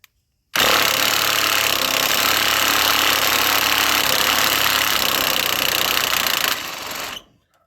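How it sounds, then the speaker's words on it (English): A half-inch high-torque impact driver works on a tandem axle trailer's suspension, giving one loud, close, unbroken mechanical rattle that lasts about six seconds before cutting off, with no talking. "I highly recommend getting a half-inch impact driver"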